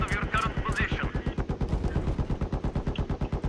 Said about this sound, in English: what the fuck's shooting us?